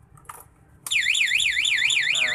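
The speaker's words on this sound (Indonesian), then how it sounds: "Nah, alarm bunyi" After a short pause and a brief blip, a loud electronic motorcycle security alarm on a Yamaha Mio M3 kicks in, wailing up and down in a rapid repeating sweep close by.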